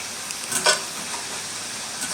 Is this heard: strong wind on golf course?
no